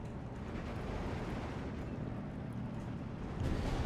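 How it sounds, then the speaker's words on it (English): Ammo explodes in the Steel Division 2 video game, a dull, rumbling roar of battle noise that builds steadily and swells near the end, with no speech. "Yeah, there you go, ammo explosion."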